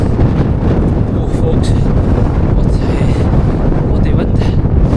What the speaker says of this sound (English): what the wind. It's wild gusting now